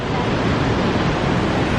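Waterfalls in Corrieshalloch Gorge, Scotland, heard from high above the drop as a steady, loud broadband roar of rushing water with no breaks, mixed with some wind on the microphone.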